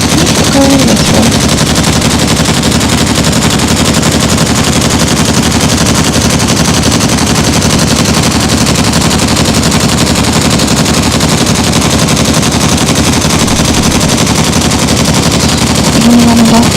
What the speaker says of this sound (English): I'm going to run out of ammo before it creates a hole.